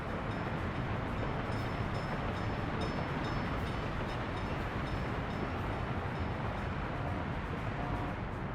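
A train rolls along in the Workers & Resources: Soviet Republic video game, giving a steady, dense rumble with rail clatter that carries evenly and unbroken throughout, and no one speaks over it.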